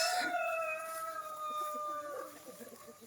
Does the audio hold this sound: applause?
no